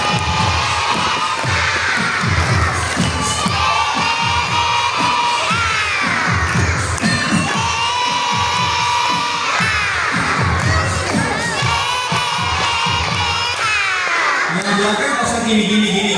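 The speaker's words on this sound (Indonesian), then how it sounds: "Tepuk tangan sambil teriak" A group of children at a Quran school (TPQ) clap and shout together with loud, continuous cheering and rhythmic clapping that fills the room.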